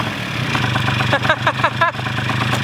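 A restomod Honda scooter engine runs steadily just after its first start, a constant low mechanical hum with faint chirpy squeaks over the top, heard up close.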